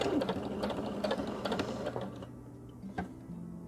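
A sewing machine runs steadily while stitching a straight line on fabric, a close mechanical whirring with rhythmic needle clatter that slows and stops near the end, leaving a faint hum.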